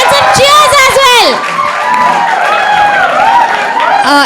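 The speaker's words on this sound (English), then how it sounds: "Guys, I need some claps, come on! And some cheers as well!" A student audience at a college engineering management fest claps, whoops and cheers loudly all the way through, with excited shouting voices mixed into the crowd noise.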